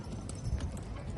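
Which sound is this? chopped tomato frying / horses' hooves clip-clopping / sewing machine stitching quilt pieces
horses' hooves clip-clopping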